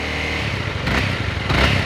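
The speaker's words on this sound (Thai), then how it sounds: "คันนี้มาพร้อมกับท่อเดิมนะฟังเสียงท่อกันดีกว่า" A 2017 Honda Rebel 300 motorcycle with its stock exhaust revs up close, a rough mid-pitched engine drone rising in two short surges.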